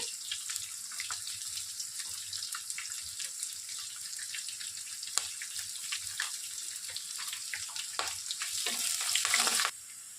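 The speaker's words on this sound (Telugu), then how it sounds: "కట్ చేసి పెట్టుకున్నటువంటి ఒక మీడియం సైజ్ ఆనియన్ని వేసి లైట్గా దోరగా వేయించాలి" Medium-sized chopped onion sizzles in hot oil with curry leaves, a steady close frying crackle with scattered pops that swells briefly near the end before easing off.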